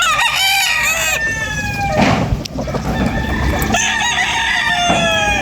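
Roosters crow loudly and repeatedly at a chicken farm in the early morning, close and overlapping, with hens clucking steadily underneath.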